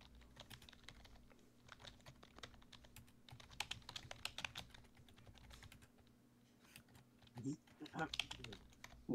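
Computer keyboard keys clatter in quick irregular bursts during a Discord voice chat, faint and close, with voices speaking over the typing toward the end.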